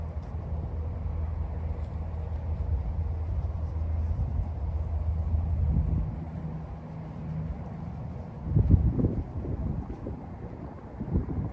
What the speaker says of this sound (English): the wind was really catching the flag now